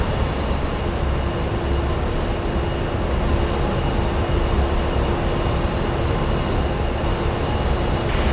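An A-10C jet aircraft in the DCS flight simulator, heard as a steady, broad engine roar with a faint whine, constant and loud throughout with no breaks.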